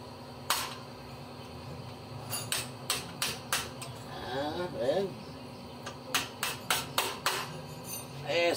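Sharp hammer blows ring out in irregular bursts while working on a Nissan Sentra CVT, some single strikes and some quick clusters of metallic taps, with a brief voice between them.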